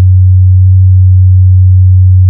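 A deep, steady synthesizer tone, muffled and bassy with the highs filtered away, holding constant for a couple of seconds with nothing else present.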